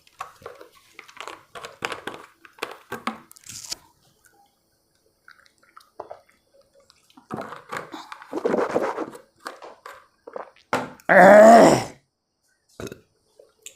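A man pauses a Hindi lesson to drink water; after stretches of talk, a short loud burst of gulping and a breathy exhale stands out near the end, with faint dripping, scraping handling noises.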